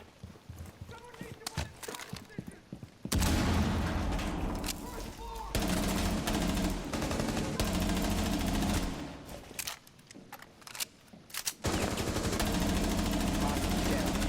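Gunfire in a tactical hostage-rescue shooter game, loud bursts of rapid shots arriving in long sustained volleys with brief quieter gaps, under occasional voice chat.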